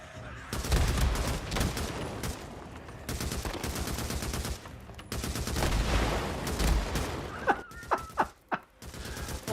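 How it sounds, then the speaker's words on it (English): Distant explosions and bursts of gunfire from the zombie-survival video game Days Gone, a dense, continuous rumble of shots with a few sharper, louder cracks near the end. "I love those explosions in the distance."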